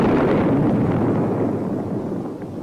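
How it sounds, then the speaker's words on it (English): A Bullpup air-to-surface missile strikes its target in a military film, heard as a deep, rumbling explosion that booms at the start and then rolls off and fades over a few seconds, with no voices. "left corrections from the cockpit until the Bullpup strikes the target"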